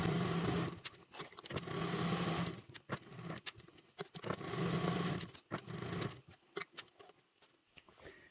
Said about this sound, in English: So this is a basting stitch, so this is at a 1/8 seam allowance.